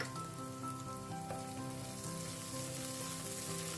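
Onions and ginger garlic paste sizzle steadily in a hot pan for a fish wet fry, a soft continuous crackle and hiss with no talking, close and even throughout.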